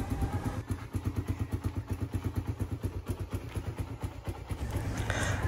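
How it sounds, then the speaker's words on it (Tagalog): A motorcycle engine idles loudly at low revs around 1000 RPM with its carburetor needing tuning, a steady pulsing putter with even rapid beats, close up and continuous. "Kung napapansin nyo guys ay ang lakas ng minor ng motorsiklo na to"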